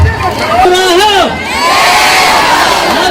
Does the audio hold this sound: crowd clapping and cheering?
yes